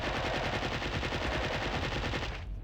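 Plasma cannon fire in the Nintendo 64 shooter Duke Nukem 64, a loud, rapid unbroken stream of repeating shots that stops abruptly near the end.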